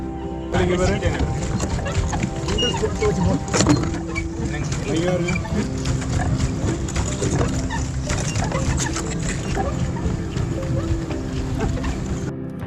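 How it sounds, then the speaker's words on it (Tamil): A pedal boat on a lake at a Yercaud boat house is pedalled with a continuous mechanical whirring and clicking of the pedal gears, close by, while a person talks throughout. "ஸோ லைக் ஃப்ரண்ட்டில் பெடல் பண்ணால் முன்னாடி போகும், பேக்கில் பெடல் பண்ணால் பின்னாடி வரும்."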